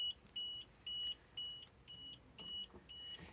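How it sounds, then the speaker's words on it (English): A motorhome warning alarm beeping with the engine off, a steady sequence of about seven short high-pitched electronic beeps at an even rhythm, clear and close in a quiet interior. "we will get a beeping noise and a red light letting us know that we currently do not have"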